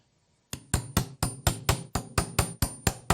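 Ten sharp, evenly spaced hammer taps seating a guitar neck into its body, close and loud, beginning after a brief silence.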